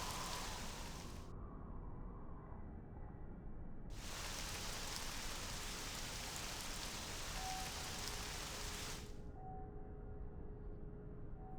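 Rain weather effect from a Doom rain mod in the video game: steady hissing downpour that cuts out abruptly twice, leaving a low background hum between bursts, with faint tonal game sounds.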